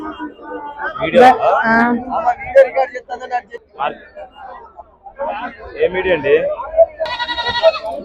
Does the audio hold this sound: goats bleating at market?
yes